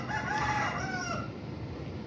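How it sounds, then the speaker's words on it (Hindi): A rooster crows once, a drawn-out call close by, over a faint background hiss, then fades. "हाँ आमिर भाई, यार ये मुर्गे जो हैं असद ने रखे हुए इधर,"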